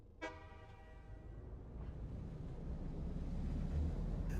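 A train horn sounds clearly near the start of a snowy Factorio-style rail network with 13 trains, then a steady rumble of rolling trains and machinery continues underneath, with no talking.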